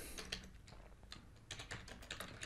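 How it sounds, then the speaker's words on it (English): Rapid, uneven clicking of keys on a computer keyboard while text is typed into Photoshop, with bursts of close, quiet keystrokes, short pauses and a few heavier taps, no voices. "Click once, start typing here."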